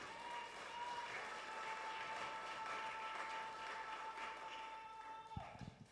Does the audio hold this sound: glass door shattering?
no